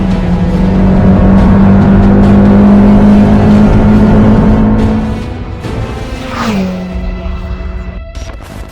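A Toyota MR2 Roadster with a 2ZZ engine revs hard and steadily for about five seconds on a cold, moist morning, then drops to a lower idle with a brief blip of throttle, loud and close.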